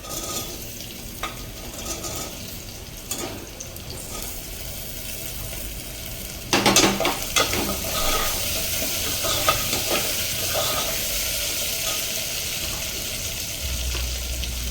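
Potato added to onions frying in oil in a pan for Gujarati masala khichdi, a steady sizzle with stirring scrapes and a louder burst of crackle midway, close and continuous without talk.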